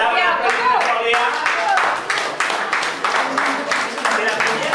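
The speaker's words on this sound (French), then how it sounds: "Voilà, on applaudit très fort Léa." Applause for a child winning a quiz at a village Easter gathering for children in Landepéreuse, with brisk hand claps running throughout under a speaking voice and mixed with chatter.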